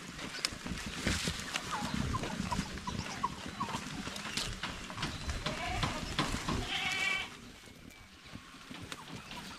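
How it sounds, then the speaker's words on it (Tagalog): Goats bleat on a farm in a dry season, short nasal calls scattered among shuffling and clatter nearby, with fowl and other livestock sounds mixed in and some talking in the background. "Yung lalaki natin kambing andun lang sa itaas."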